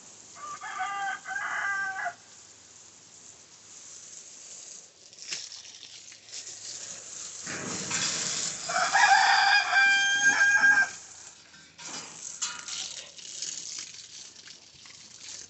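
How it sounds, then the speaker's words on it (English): Roosters roaming outside a backyard coop with hens, ducks and geese on a hot July day crow several times: one early call, then a louder, longer crow nearby in the middle, with clucking and soft rustling between. "I got roosters running around outside."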